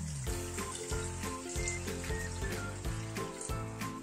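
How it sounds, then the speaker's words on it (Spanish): Wine and fish broth pour into a pan where hake is cooking, a close, steady gurgling splash of liquid with a light sizzle underneath and no talking. "a continuación le echamos el vaso de vino. Y el caldo de pescado."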